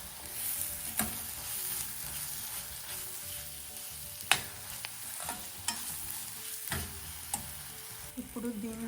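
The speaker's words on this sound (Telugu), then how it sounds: "పచ్చివాసన పోయే వరకు వేయించుకోవాలి." Spices frying in a pan for Bagara rice, a steady close sizzle broken by occasional sharp clicks of stirring.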